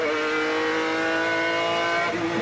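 McLaren V12 race car heard from onboard at Silverstone during a 1995 GT race, its engine a loud, steady high-pitched howl with sustained harmonics throughout, close and alone.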